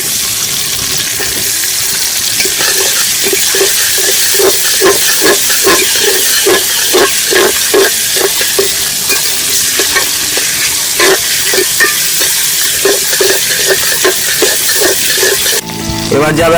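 Chicken and tomato for a Bengali Gondhoraj lemon chicken get stirred in a loud, sizzling pan, with a steady run of scraping spatula strokes over the constant hiss of frying.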